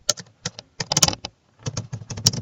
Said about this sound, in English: let me go to Google real quick And I'm gonna type in West Palm Beach